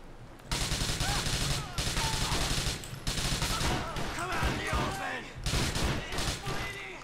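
Rapid bursts of video game gunfire from an action game, loud overlapping shots and automatic fire in quick succession with brief pauses, close and dominant.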